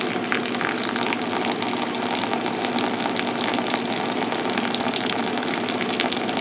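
Hot water poured in a steady stream onto ground coffee for the bloom stage of a pour-over brew, a continuous close hiss and splash with no pauses and no voices.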